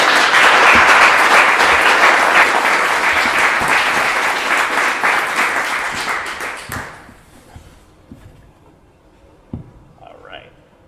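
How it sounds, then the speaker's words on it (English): An audience at a Startup Grind Buffalo event applauds to welcome a speaker: loud, dense clapping fills the room for about seven seconds, then fades to near quiet with a few faint stray sounds. "So let's have a round of applause for Glenna"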